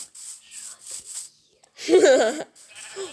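In a video game, a single drawn-out sheep bleat sounds clearly and close by, following a few short bursts of a person talking. A brief voice fragment comes after it.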